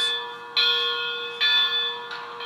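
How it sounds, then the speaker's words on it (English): A steam locomotive bell from a model train sound decoder clangs three times at an even pace, each strike ringing loudly with a sustained metallic tone. "this is what the bell would sound like"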